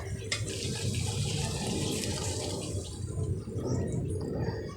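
Water pours steadily from a glass into a pan of eggplant and okra adobo cooking in soy and oyster sauce, a continuous splashing rush that fades slightly near the end.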